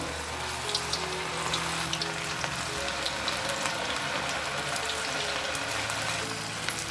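Cauliflower pieces coated in cornflour and maida deep-fry in hot oil, giving a steady, dense sizzle and crackle that runs evenly throughout, close and moderately loud with no talking.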